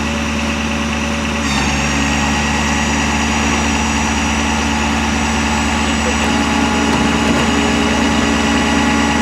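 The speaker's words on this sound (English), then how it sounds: "Tow truck's back, this time with the flatbed" A flatbed tow truck engine idles steadily and loudly close by, a constant low rumble with a slight shift partway through, and voices are present.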